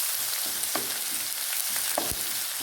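Grated ginger and garlic sauté in a pan for chicken devil, with a loud, continuous sizzle and a few close scrapes and clinks of the spoon stirring.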